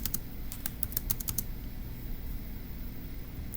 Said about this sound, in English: So let's go ahead and type that up.